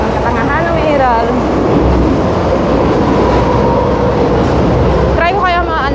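Interior of a moving train's rear carriage: a loud, continuous rumble and rattle of wheels on track throughout, with faint squealing tones near the start and end.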